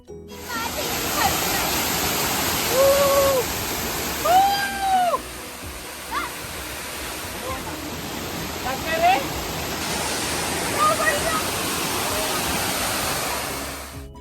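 A waterfall behind Malampuzha dam in Kerala roars as a constant, loud broadband rush throughout, while voices talk and call briefly over it.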